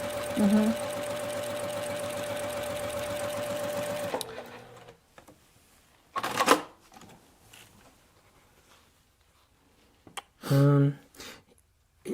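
A home sewing machine stitches and feeds fabric while quilting a cat bed, running as a steady, loud mechanical whir for about four seconds, then stopping, followed by quiet stretches with a couple of brief, louder bursts.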